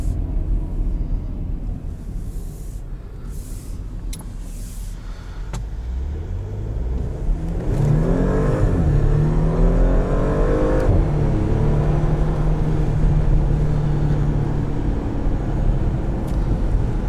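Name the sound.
2021 Porsche Macan S driving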